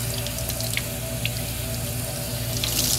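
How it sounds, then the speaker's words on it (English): Cold water from a kitchen tap splashes steadily into a sink as kale is rinsed, a continuous near hiss with small drips and splashes. "go ahead and turn your water to cold. Give it a quick rinse just to freshen it back up again."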